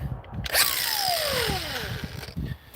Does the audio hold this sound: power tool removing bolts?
yes